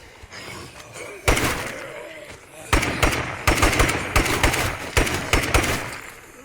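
Scar assault rifle fired in State of Decay 2 while fighting zombies near a parked Jeep, heard as a sharp initial shot and then repeated close bursts of gunfire in a steady rhythm.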